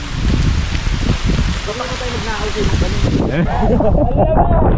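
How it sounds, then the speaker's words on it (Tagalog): Rain and gusting wind rush steadily against the microphone while a few voices shout and chatter over the noise. "Ayan na, ulan."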